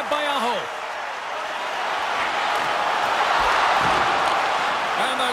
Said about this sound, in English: And the crowd's on their feet saluting the team after a hard-fought effort this evening